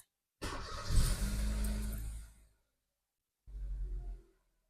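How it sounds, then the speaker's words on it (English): A car engine cranks and catches after a steering clock spring replacement, roaring up loudly then settling and cutting off, followed by a second shorter engine burst after a pause. "let's start up the car"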